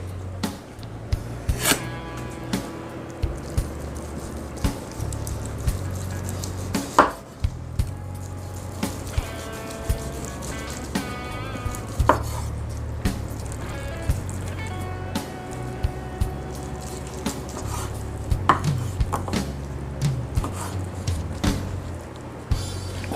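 A knife shaves thin slices off a rotisserie-cooked prime rib roast, giving a string of short, close cutting and chopping knocks on the board with small squishy sounds between them.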